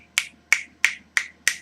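Five crisp finger snaps, evenly spaced about a third of a second apart, close and alone against a quiet background, given as appreciation for spoken-word poetry.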